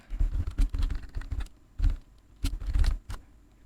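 Quick, close keystrokes on a computer keyboard in short bursts of clicking taps, with pauses between groups, alone without talk.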